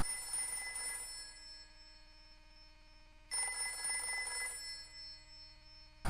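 A telephone rings in the survival horror video game Haunting Grounds: two long electronic bell rings separated by a short pause, clear and alone in a quiet room, with a third ring starting at the end.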